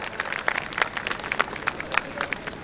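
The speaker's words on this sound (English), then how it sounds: "Give a big round of applause for Samarth" Audience at a school annual report event clapping for a student, a thin scattered round of applause with distinct individual claps and a few sharp accents, moderately close, with no talk.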